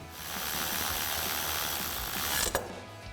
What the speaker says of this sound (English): I'm gonna take my 10 millimeter on my electric ratchet here, and we're gonna run this in.